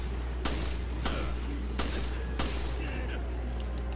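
Single gunshots from Resident Evil Revelations crack out one at a time, four sharp shots spaced roughly evenly over a steady low background hum.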